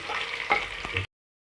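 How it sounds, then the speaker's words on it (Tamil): Lengthwise-sliced onions frying and being stirred in hot oil in a pan for chicken biryani: a close, steady sizzle with scraping stir strokes, ending abruptly after about a second. "வெங்காயம் நல்லா கோல்டன் ஃப்ரை ஆகிற வரைக்கும் வதக்கி விட்டுட்டே இருப்போம்"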